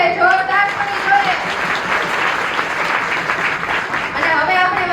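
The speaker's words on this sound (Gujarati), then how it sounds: "આ કાર્યકર્તાઓને માટે દિલથી એકવાર તાળીઓ થઈ જાય, જોરદાર થવી જોઈએ" A hall audience at a Surat family reunion gathering applauds the committee members, a dense, loud and sustained wash of clapping throughout, with a voice faintly audible over it at the start and end.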